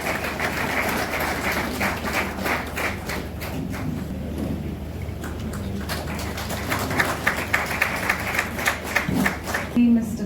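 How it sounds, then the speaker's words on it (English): An audience claps for sponsors receiving mementos at a sports league jersey event, a steady patter of many hands lasting several seconds, with a voice speaking over the applause. "A round of applause, please."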